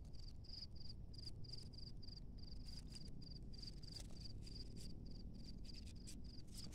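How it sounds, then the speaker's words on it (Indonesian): Crickets chirp in a steady, rapid pulsing stream, continuous and fairly faint throughout, with no voices. "Saya kira jangkrik yang tadi."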